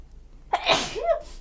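A single sharp human sneeze, loud and close, with a brief intake before the burst and a trailing vocal tail, with no talk around it.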